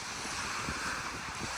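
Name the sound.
waves crashing on shore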